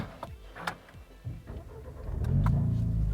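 A Renault Megane RS Trophy with a 6-speed manual gearbox starts up: a few light clicks and taps, then the engine catches about two seconds in and swells into a loud, deep, steady rumble up close.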